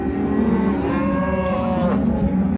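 Cattle low and moo during a ranch roundup of cows and calves, a close, continuous bellowing call with a drawn-out tone filling the whole moment against steady outdoor background noise.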